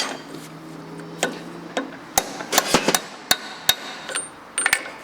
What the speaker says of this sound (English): I've got to hit the center of the bearing.